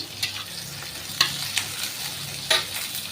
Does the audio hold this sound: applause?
no